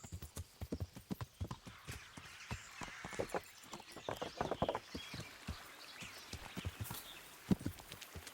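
Horse hooves clip-clopping in Kingdom Come: Deliverance, a rhythmic run of hoof strikes at a trot, moderately close, with faint birdsong in the background.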